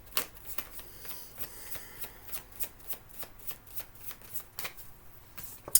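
A deck of Lakota Sweat Lodge medicine cards is shuffled by hand, giving a steady run of soft, crisp riffles and flicks up close, with no voices and a sharper snap at the end.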